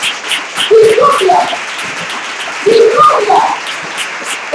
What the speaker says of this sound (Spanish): Den un aplauso a Jesús por eso.